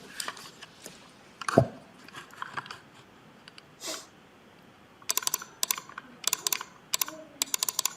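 Close computer keyboard typing at a public hearing comes in quick bursts of sharp clicks, with a sniff and other small desk noises earlier.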